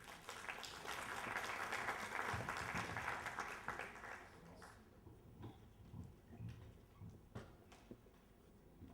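An audience at the IT & Telecom Forum in Abidjan bursts into dense applause that is loud at first and then thins into scattered claps.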